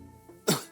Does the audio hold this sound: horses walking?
no